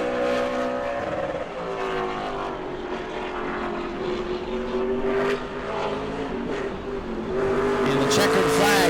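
A super late model race car circles the track on a qualifying lap at New Smyrna, its engine note rising and falling as it passes, while a commentator talks over it.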